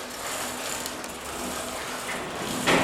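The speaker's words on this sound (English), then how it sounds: "This is how they grind up chocolate to make your much loved chocolate bars." A grinder milling cacao into chocolate gives a steady, close mechanical whir with a faint tonal hum and a brief louder burst near the end.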